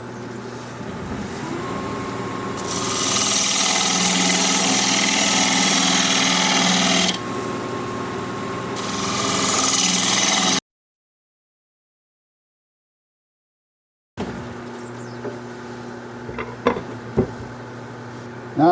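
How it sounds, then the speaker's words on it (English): A wood lathe turns a bowl cut with a 1/2 inch bowl gouge, giving a steady loud whirring hiss that swells in two long passes of cutting, then a silent gap before the machine hum resumes with a few knocks. "Then switch to a 1/2 inch bowl gouge."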